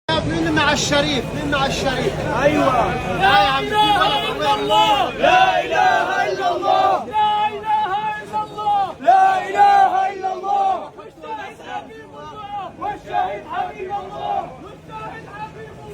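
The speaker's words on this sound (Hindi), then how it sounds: "ये जो आपको तकबीर के नारे सुनाई पड़ रहे हैं" A large crowd in Gaza chants takbir slogans loudly and in unison, the voices rising and falling in a rhythmic, shouted cadence that fills the whole stretch.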